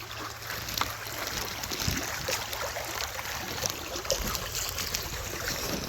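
A creek flowing on a rainy day, a steady broadband wash of running water and rain patter filling the scene evenly throughout, with no voices.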